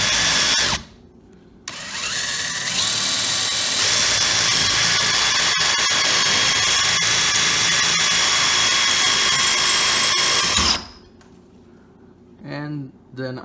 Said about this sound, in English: This time I'm just going to drill a bunch of multiple holes, and that way it will go through.